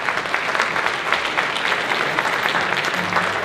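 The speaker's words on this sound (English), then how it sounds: "Please give her a round of applause." An audience at a school band concert claps, a steady moderate patter of many hands with no break throughout.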